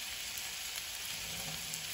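Pork frying with onion and garlic in a pan gives off a steady, close sizzle, even and unbroken with no voices over it.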